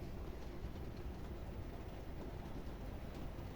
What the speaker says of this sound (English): this new motor has made a world of difference to that Mahano loco